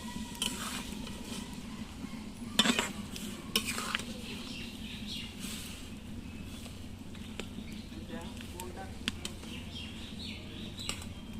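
Mushrooms are stirred in a pot of boiling water, with scraping and clinking of a utensil against the pot, occasional sharp knocks, and bubbling underneath.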